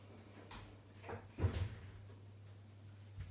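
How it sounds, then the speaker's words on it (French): A door opened to let a cat in, making a soft scrape and a louder thud or latch knock near the middle, close and quiet over a low steady hum, with no talk. "j'ouvrais la porte au chat"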